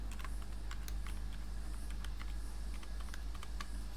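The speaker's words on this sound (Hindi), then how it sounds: "उसके बाद पासवर्ड, जो पासवर्ड आपने क्रिएट किया था उसको SSH टाइप कर लेना" Rapid keystrokes on a computer keyboard as a password is typed, a steady run of light clicks over a constant low hum, with no talking.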